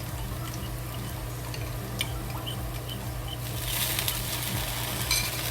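General Tso's chicken sauce stirred in a pan as it thickens, a soft continuous bubbling sizzle with faint scraping of the utensil, growing slightly louder toward the end.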